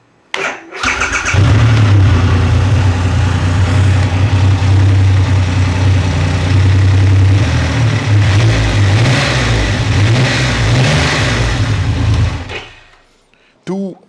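A large 2.5-liter motorcycle engine cranks and fires up indoors, then runs loudly with a deep, throbbing idle and occasional revs before cutting off abruptly.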